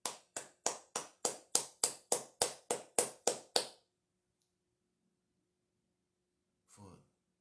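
A dozen crisp, evenly spaced hand claps in a quick steady rhythm, close and loud, then sudden silence broken by a brief throat-clearing or vocal sound a few seconds later.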